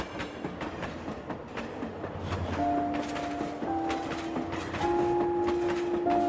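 A train rolls along with a continuous rumble and faint rhythmic clatter, while sustained tonal squeals rise partway through.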